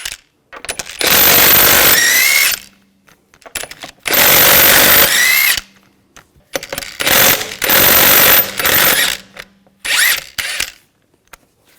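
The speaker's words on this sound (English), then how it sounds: "Now we're going to remove the wheel, use a 19mm socket. Take the lug bolts out." An impact wrench spins lug bolts out of a 2000-2006 BMW X5 rear wheel with a 19mm socket, loud whirring rattling bursts of about two seconds each, four times with short pauses between.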